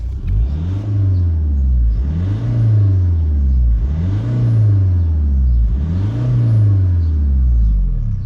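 An old Volkswagen Passat B5 with a 1.9 diesel engine is revved repeatedly, giving four rising and falling throttle blips in a steady rhythm over a loud idle rumble.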